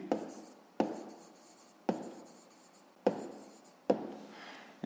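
A pen writes a sixth-grade math solution by hand on paper, in scratchy strokes that each start with a sharp tap and fade, about four to five of them, close and quiet with no talking.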